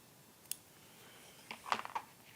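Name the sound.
scissors trimming away threads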